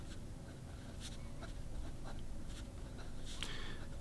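Fountain pen with a 14 karat Omas broad nib scratching across paper, quiet steady strokes with a few faint taps, close and soft with low room hum underneath.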